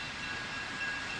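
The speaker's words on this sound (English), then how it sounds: "The locomotive is reverse course" A GTW GP-9 diesel locomotive reverses and moves along the track during mainline switching, giving a steady, fairly distant rumble with a continuous hiss and no talking.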